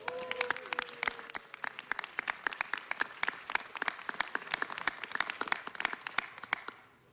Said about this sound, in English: let's give another round of applause for the Waxman staff, past and present, friends and family